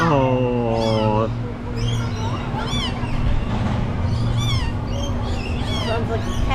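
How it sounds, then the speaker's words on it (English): A cat meows repeatedly, with several drawn-out, rising and falling cries at moderate distance. A steady hum and people talking sit underneath at Busch Gardens. "Sounds like a cat."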